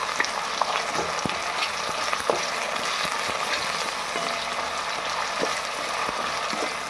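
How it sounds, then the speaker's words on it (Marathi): Cut potatoes sautéing over high gas in a pan, a steady loud sizzle and fry with occasional scraping stirs, continuous throughout with no talk. "हे सर्व मी मोठ्या गॅसवरच परतून घेते।"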